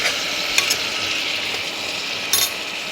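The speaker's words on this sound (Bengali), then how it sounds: "একটু নাড়াই।" Carrots, chopped green chillies, tomatoes and peas being stirred in a pan on the stove, a steady sizzle with a few sharp scraping clicks of the spoon against the pan, no voices.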